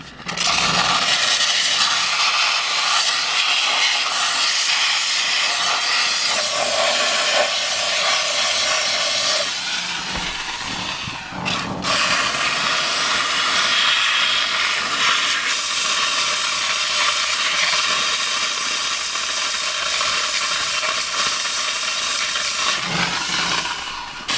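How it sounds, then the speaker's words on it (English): A steam cleaner hisses steadily while detailing a car's interior, a loud continuous jet that stops briefly near the middle and then resumes, with no voices heard. "I'm gonna take my microfiber, I'm gonna start mopping up that steam, and as you use a steamer more and more"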